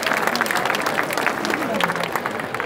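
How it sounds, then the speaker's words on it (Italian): A live comedy audience in Senise, Italy breaks into loud, dense applause with crowd noise, while a performer's voice speaks faintly over the clapping. "se senti questo applauso è tutto per te"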